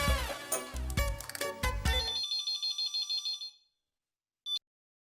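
A telephone rings in a Hindi TV sitcom scene: a bright electronic melody plays loudly for a couple of seconds, then repeating beeping chimes follow and stop, with one short final beep after a pause.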